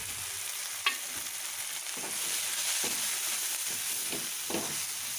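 Spice powders for pav bhaji sauté in a hot pan, a steady close sizzle with several soft scraping stirs spread through it and no talking.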